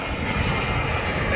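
An airplane at Queenstown airport beside Lake Wakatipu makes a steady, loud, broadband engine roar that holds evenly through the short moment, with no talk.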